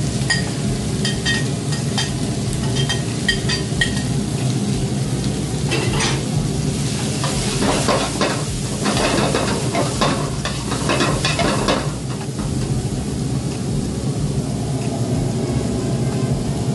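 Onion, capsicum, carrot and cabbage stir-frying in a pan for a spring roll filling, a steady close sizzle with repeated scraping and stirring clatters throughout, no talking.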